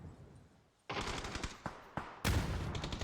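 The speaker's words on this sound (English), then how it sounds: "Grenades." Sharp loud bangs in PUBG, several sudden blasts that hit hard after a quiet moment and overlap into a rumbling burst near the end, close and heavy.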